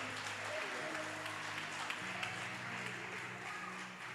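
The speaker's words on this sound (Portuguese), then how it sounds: "Você pode aplaudir o Senhor" A church congregation applauds in a sustained wash of clapping that fills the room, with a voice and low musical tones underneath.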